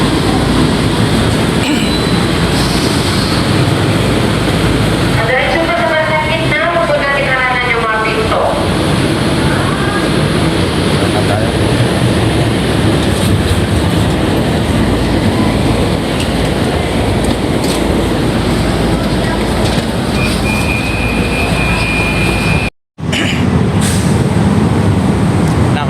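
An MRT metro train rumbles loudly and continuously, with a brief voice announcement midway and a short squeal of wheels near the end.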